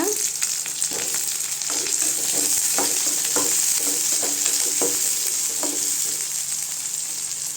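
Shallots and garlic for mint chutney sizzle steadily in hot oil in a pan, with a continuous bright frying hiss and repeated scraping taps of a spoon stirring them, and no talk.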